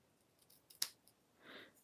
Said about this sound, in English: I might need to cut a little bit more.